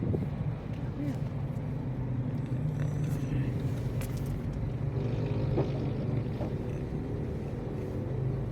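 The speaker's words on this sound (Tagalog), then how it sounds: "Smooth landing. Turkish Airlines." A large Turkish Airlines airliner lands at NAIA airport, a steady low engine and wind rumble running throughout at fairly close range, with people talking over it.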